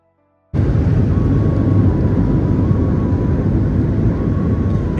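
A loud, steady engine roar starts abruptly and holds, an Indian Coast Guard helicopter flying low overhead with a faint whine riding above the rumble.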